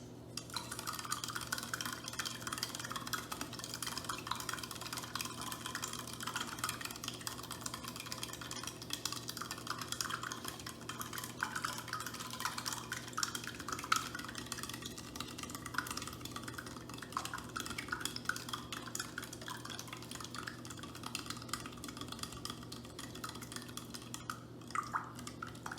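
A solid being stirred into a solution in a lab beaker, a continuous soft scraping and swirling rhythm held steady for a long stretch, close and fairly quiet, with faint clinks.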